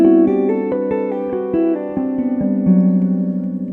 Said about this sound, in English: And then coming down, I just use the pull-offs.